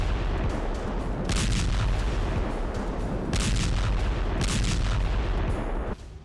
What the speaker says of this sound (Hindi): शहर के हर कोने में आईडीएफ आसमान से बम बरसा रही है।